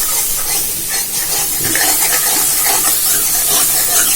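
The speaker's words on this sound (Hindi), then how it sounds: "ये देखिए आधी चम्मच मैंने इसमें कसूरी मिर्च डाल दी है और इसे भूनूंगी मैं।" Ground spices with half a spoon of kasuri methi roasting in a pan over steady broadband hiss and sizzle, with faint scraping as they are stirred continuously, close and fairly loud, no talking.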